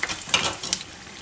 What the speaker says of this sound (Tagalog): Tapos natin magprito ng talong.